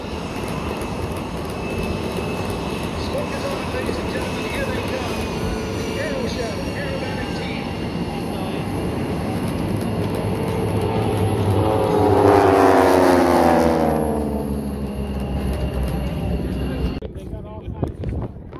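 A Navy F/A-18 Super Hornet Rhino jet taxis and takes off, loud steady turbine whine and roar swelling to a peak around twelve seconds with a sweeping pitch shift, then fading as it passes away.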